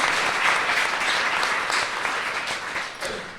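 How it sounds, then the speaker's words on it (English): Audience applause for young editors at a children's book writing and illustrating event, a steady dense wash of clapping throughout, fairly loud and close, easing slightly toward the end with no voices over it. "can we give our young editors a great hand, warm hand of"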